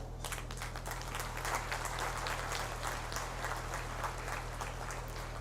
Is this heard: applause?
yes